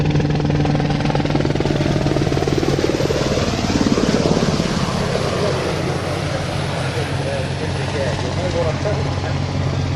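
A former RAF search and rescue helicopter hovers nearby with a loud, steady rotor drone and engine roar that holds constant throughout.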